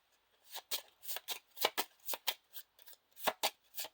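Playing cards from a Lord of the Rings card game deck are shuffled close by, giving a quick series of crisp riffling bursts in an irregular rhythm over a quiet background.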